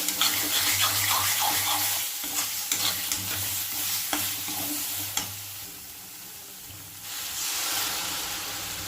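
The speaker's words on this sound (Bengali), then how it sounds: "এবার দেবো সামান্য একটু জল" Water goes into a pan of fish curry made with katla fish and coriander, with a steady sizzle and stirring scrapes over a continuous background hiss that briefly swells near the end.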